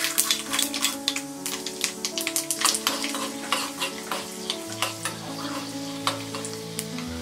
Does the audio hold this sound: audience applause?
no